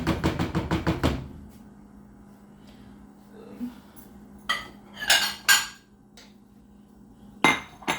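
A spoon stirring chicken soup in a pot gives a quick run of about eight metallic clinks. These are followed by a low simmering hush and a few scattered knocks and scrapes against the pot later on.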